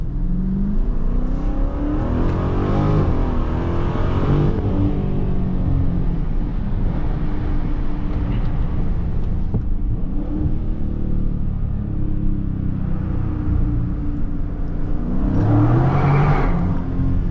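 A crashed Dodge Charger Scat Pack running on worn-out tires roars loudly through a tunnel with the windows down. The engine rumble swells and revs throughout, rising in pitch at the start and again near the end.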